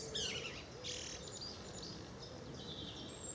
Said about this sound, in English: So there still are a few birds knocking around